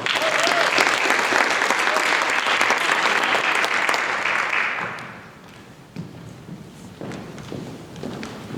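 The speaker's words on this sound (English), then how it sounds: "Another round of applause." Loud, sustained audience clapping at a high school honors ceremony fills the first five seconds, then drops off to sparse claps, shuffling and faint background noise.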